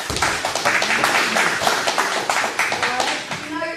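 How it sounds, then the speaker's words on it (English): A round of applause from boys at a children's GAA club coaching workshop: steady, fairly close clapping of a small group for a few seconds, with children's voices mixed in and a voice near the end. "I'll give a round of applause."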